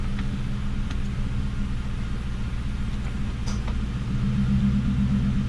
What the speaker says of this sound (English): And we have a functioning blower motor again.